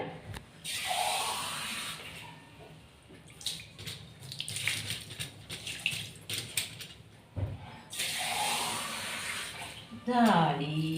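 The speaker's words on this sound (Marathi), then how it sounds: "खळखळ खळखळ खळ पाण्यात स्वच्छ निघाली जाळी" A mesh strainer is rinsed in water, giving bursts of splashing and sloshing that come and go over about ten seconds, with a voice talking at times and a lull in the middle.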